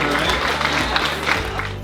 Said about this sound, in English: give yourself a round of applause for getting up so early.